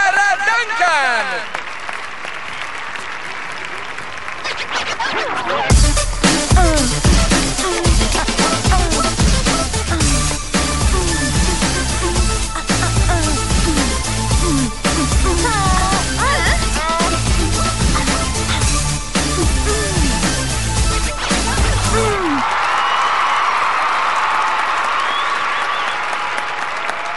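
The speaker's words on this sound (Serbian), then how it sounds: "Veliki aplauz za Sandru Lejlok!" An audience bursts into sustained, dense applause for a performer, loud and close for about sixteen seconds before stopping abruptly into quieter ambience.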